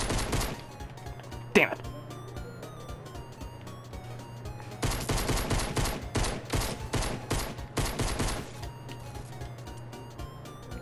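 Rapid bursts of gunfire in Fortnite, a single early shot followed by clustered automatic volleys in the middle, close and loud, with a brief spoken exclamation from a player.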